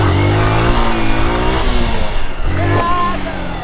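A car engine revving loudly and unevenly under a learner fumbling the clutch, with the pitch rising and dropping in waves, close and dominant throughout.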